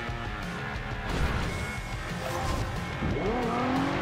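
Nissan R35 GT-R driven in Forza Horizon 2 near a warehouse, engine roaring continuously with tire squeals, skidding and a couple of heavy thumps and crashes, loud and up close.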